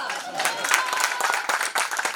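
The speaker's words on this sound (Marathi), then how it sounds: "म्हणजे इन शॉर्ट ती तुम्हाला सांगते की तुम्ही टाळ्या वाजवा" An audience at a music launch ceremony claps in a burst of applause, dense, uneven hand claps close by that carry on throughout, with voices faintly mixed in.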